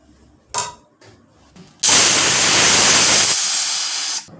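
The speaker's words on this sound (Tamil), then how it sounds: "ரெண்டு விசில் வந்துருச்சு" A few short clicks and knocks, then a loud continuous hiss of a pressure cooker whistle venting steam while cooking dal for sambar, for about two and a half seconds before cutting off.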